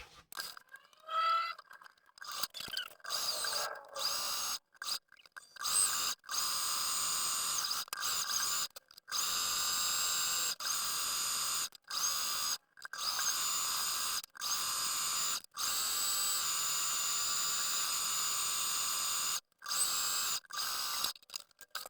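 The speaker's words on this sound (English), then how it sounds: "you will be going to the sewing machine and sewing all the way down" A rapid mechanical whir of a sewing machine stitching a fabric necktie seam runs in repeated bursts of a few seconds each, stopping and starting with brief pauses, close and steady.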